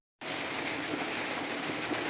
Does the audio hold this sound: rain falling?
yes